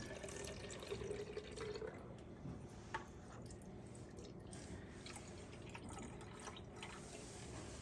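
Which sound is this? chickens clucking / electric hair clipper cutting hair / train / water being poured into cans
water being poured into cans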